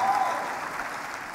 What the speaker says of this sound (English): A round of applause for Kenya that hosted Youth Connekt Africa in